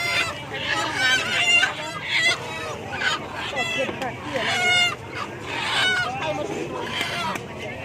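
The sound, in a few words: chickens clucking and rooster crowing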